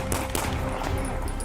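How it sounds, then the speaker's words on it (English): Rapid gunfire, a dense burst of several sharp shots, during a police confrontation on a city street, loud and close over a roar of background noise. "Shots fired! Shots fired!"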